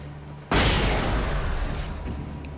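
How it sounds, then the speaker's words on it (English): A flashbang grenade goes off in Alan Wake with a sudden, loud, wide blast that holds as a dense roar for about two seconds and then slowly thins, after a quiet stretch of game ambience. "Go ahead and toss that flashbang,"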